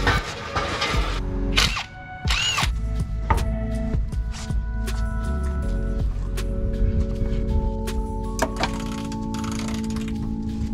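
Power tool tightening sway bar bolts on a Nissan 240SX, with sharp rattling impact bursts and clanks up close, a steady motor whine and scattered metallic knocks throughout.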